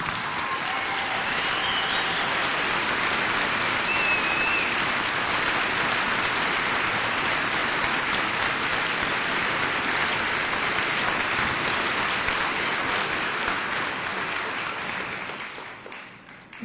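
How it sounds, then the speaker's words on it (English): An audience at a university commencement applauds loudly and continuously, a dense wash of many hands clapping that holds steady for about fifteen seconds before fading at the end. "I invite the parents, families, friends, and members of the faculty and the honored guests to join me once more in applauding vigorously"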